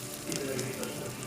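Cumin and mustard seeds fry in hot oil in a pan, giving a short burst of close, steady crackling sizzle.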